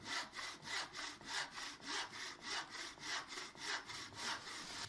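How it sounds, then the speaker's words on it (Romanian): Steady back-and-forth sawing through wood with a frame saw, about a dozen rhythmic rasping strokes close up, with no voices. "Se folosește ferăstrăul cu cadru"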